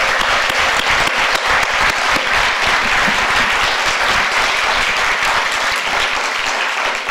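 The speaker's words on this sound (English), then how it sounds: "I would ask, before you arrive, a big applause for all this exhibition" Loud, dense applause fills the hall at a full-day art history symposium on Spain's golden age, a sustained wash of many hands clapping evenly without pause from start to finish.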